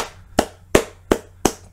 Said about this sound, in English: clap it up for Uraraka